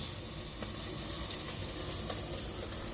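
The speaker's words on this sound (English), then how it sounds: "Just pour some of the oil out onto it." Cooking oil is poured out onto a pan for biscuits, giving a steady, close hissing flow that runs evenly throughout with no talking.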